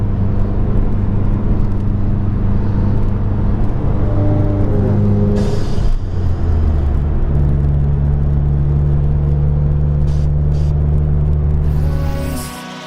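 BMW E30 race cars compete at a racing event: a loud, continuous engine drone with shifting pitch as the cars rev and run, with no voices.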